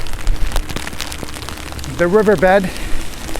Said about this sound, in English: we got some really good rain coming down right now